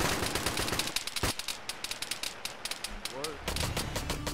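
Weapon fire in the ShackTac military game crackles in rapid bursts, loud sharp shots stacking into a ragged machine-gun rhythm with distant booms behind, while voices talk over the shooting.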